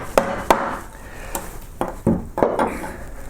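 A large carving tool cutting into wood while a solar green man's turned-over top leaf is shaped, giving sharp, irregular chops and scrapes, about eight distinct knocks spaced unevenly, close and fairly loud.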